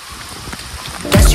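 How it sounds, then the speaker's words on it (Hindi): Rain starts falling outdoors on a hot day, a soft steady patter that swells into a louder, closer downpour near the end, with no talk over it. "बारिश"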